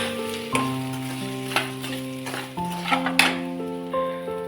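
Semolina being stirred and roasted in a pan with peanuts makes a soft dry sizzle under repeated metal scrapes and clinks of a spoon against the pan, with sustained ringing tones in the background.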